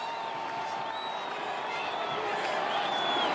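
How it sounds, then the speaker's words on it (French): A large crowd in the street in Paris cheering the French football team in front of the Hôtel de Crillon, a steady, dense roar with whistles and shouts, while a commentator speaks over it. "Avec cette foule qui crie merci."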